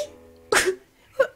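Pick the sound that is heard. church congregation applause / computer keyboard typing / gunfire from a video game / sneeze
sneeze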